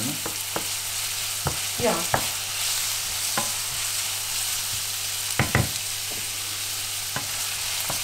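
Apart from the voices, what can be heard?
onion frying and being stirred in a pan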